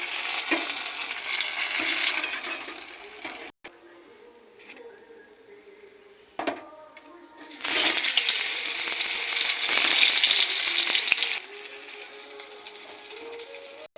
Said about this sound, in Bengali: বেগুন ভেজে তুলে নিয়েছি